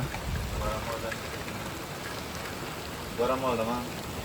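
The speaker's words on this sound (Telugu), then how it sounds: "ఫుల్ వర్షం అయితే పడుతుంది ఇక్కడ" Continuous hiss of rain falling steadily, with brief bursts of indistinct talk over it.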